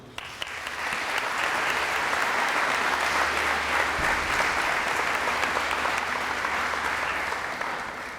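An audience applauds at a graduation ceremony for a cyber academy as a lieutenant colonel is welcomed to the podium, with dense, steady clapping from a large crowd that lasts about eight seconds.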